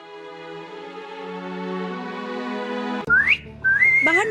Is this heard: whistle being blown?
yes